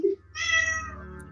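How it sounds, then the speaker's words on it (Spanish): A cat gives a single drawn-out meow, fairly quiet, over a low steady hum, heard during a nighttime paranormal investigation at an old site; no one speaks. "Eso es un gato."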